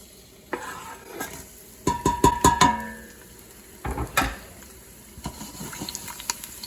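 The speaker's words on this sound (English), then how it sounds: "we're gonna put some olive oil in a hot pan" Olive oil and garlic in a hot pan, with a soft steady sizzle under close clatters and scrapes of a utensil stirring against the pan in short bursts.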